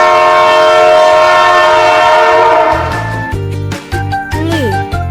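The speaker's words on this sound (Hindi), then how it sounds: "रे से रेलगाड़ी।" A train in a children's alphabet learning piece, with a loud drawn-out horn blast followed by rhythmic rumbling and clattering, and a bent pitch near the end.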